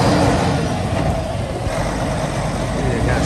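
A 2013 Peterbilt 386 truck circles a yard, its engine a loud, steady diesel rumble with broad road and mechanical noise throughout.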